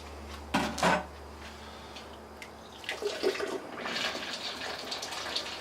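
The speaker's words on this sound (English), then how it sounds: "I like to just pour on top of my spoon" Homebrew beer wort from an all-grain brew day pours onto a spoon, a splashy liquid gush with a brief burst and then a longer steady trickle and splatter, close up with no talking.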